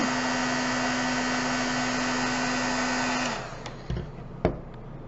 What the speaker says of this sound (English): Unplug your heat gun.